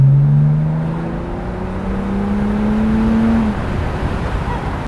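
Remapped BMW N57 330d diesel fitted with a big turbo, intercooler and downpipe pulls hard from inside the cabin, its engine note a loud steady drone that climbs in pitch through one long gear before easing off.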